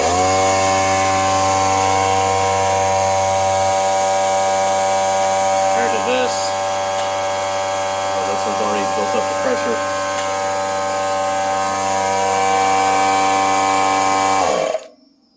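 A Central Pneumatic 29-gallon 2 hp air compressor runs with a loud, steady motor hum and strong droning tone, then cuts off abruptly near the end as it shuts down.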